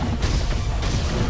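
A firecracker prosthetic bursting in the game Sekiro, heard as a quick cluster of sharp, crackling pops and small booms packed into about a second, loud and close.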